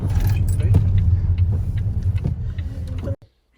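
Vehicle engines idle and rumble in a pub car park in Cirencester on a summer evening, a steady low drone with scattered clinks and faint voices, cutting off abruptly near the end.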